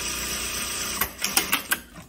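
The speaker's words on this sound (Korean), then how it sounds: "두 겹 재봉 해보겠습니다." A Juki DDL-7000A industrial sewing machine stitches through two layers of fabric, a steady whirring hum followed by a quick series of five sharp mechanical clacks up close, with no talk.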